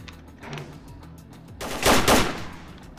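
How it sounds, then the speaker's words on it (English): Automatic gunfire in the video game STALKER Call of Chernobyl, a few scattered distant shots followed by a loud, rapid burst of machine-gun fire lasting about half a second, with no voices over it. "Why is he shooting at me only?"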